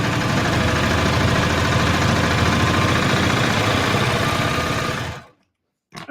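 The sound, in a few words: serger sewing machine sewing along denim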